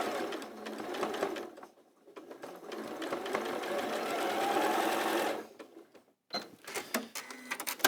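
A domestic sewing machine stitches a seam in quick, steady mechanical bursts with a brief pause, then runs slower and more unevenly toward the end, close and clear.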